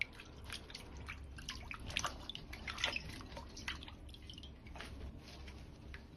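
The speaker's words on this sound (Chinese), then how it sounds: "全部削好后，再放入水中清洗干净" Peeled stem lettuce being washed in a basin of water, faint close splashes, drips and squishy handling noises in irregular bursts over a low background hum, no voices.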